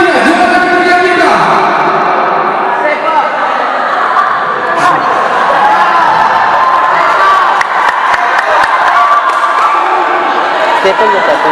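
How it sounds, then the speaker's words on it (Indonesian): A live audience at an Aceh stand-up comedy event cheers and whoops loudly for the third-place winner, with a dense, sustained crowd roar and excited shouts that last the whole stretch. "Dan langsung saja beri tepuk tangan dia untuk juara ketiga."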